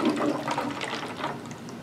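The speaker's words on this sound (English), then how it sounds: "The water is swirling around the outside of the bottle." Water swirls in a vortex inside a tornado-in-a-bottle, giving a continuous gurgling, rushing pour that stays close and fairly loud throughout with no talk over it.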